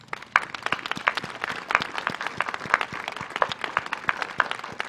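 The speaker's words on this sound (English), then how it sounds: "give him a round of applause" An audience at a veterans' ceremony in Lebanon applauds, a moderate, slightly sparse round of hand clapping that carries on steadily without any voices.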